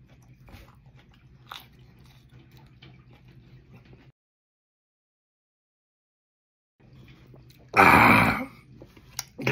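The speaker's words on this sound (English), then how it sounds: "Gotta chew it up good." A hot pepper is bitten with a sharp crunch and then chewed, wet mouth sounds near and loud after quiet movement and a brief silence.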